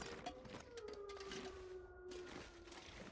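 A lone wolf howl from The Long Dark, set in the Mines area of the game, with a long rising then steady tone that carries through the whole stretch over a dense, rumbling wind-like background.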